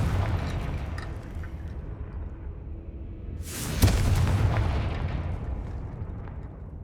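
A single booming blast from the Confringo explosive spell in Hogwarts Legacy, arriving midway as a sharp burst that rumbles off over several seconds, set against steady low game ambience with no talking.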